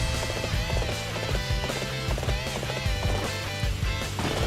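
Horses gallop in the Dynasty Warriors 8 video game, a rapid drumming of hoofbeats with quick repeated thuds that stay loud and close throughout, layered over a busy game soundscape.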